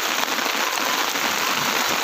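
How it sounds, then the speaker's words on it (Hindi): Steady, dense downpour of heavy rain hissing continuously on surfaces on Mumbra hill in India, loud and close, with no voices. "देखिए क्या धमाकेदार बारिश हो रही है"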